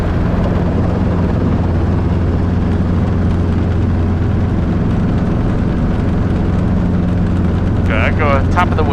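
A Robinson R22 helicopter flies during flight-instructor autorotation training, its engine and rotor making a loud, steady, close drone that fills the whole stretch, with a brief higher chirp near the end.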